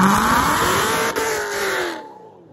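A procharged 750-horsepower C7 Corvette revs loudly nearby, its engine rising and sweeping with a high supercharger whine, then cutting off and fading to quiet near the end, with no talking.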